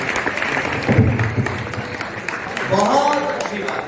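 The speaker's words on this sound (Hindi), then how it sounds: "तालियां बजाओ।" An audience claps at an Arya Samaj Vedic bhajan gathering in Hisar. The applause is a moderate patter mixed with voices talking over it.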